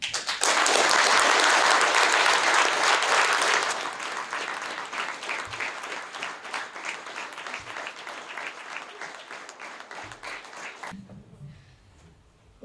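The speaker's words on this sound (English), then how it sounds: "So a warm applause for Sarah Haider." A crowd bursts into loud applause, strongest at first, then settling into steadier clapping that fades out near the end.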